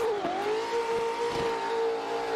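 A race car engine in a driving game on a wheel and pedal setup pulls hard in fourth gear, a steady loud droning note that rises slowly and holds up close without a break.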